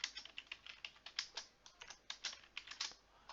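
Quick, light tapping as a product name is typed on an ePOS touchscreen in a hospitality setting, a soft, close, irregular patter of clicks with no speech.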